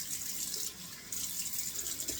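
Cold water running from a tap and splashed up for a rinse during a wet shave, a steady close hiss of flowing water with a brief dip partway through, and no voices.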